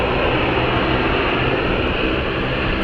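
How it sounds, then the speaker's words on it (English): A Dash 8 turboprop taxiing at London City Airport gives off a steady, loud, broadband engine drone that holds unchanged for a few seconds, with no voices over it. "Taxi for the Dash 8."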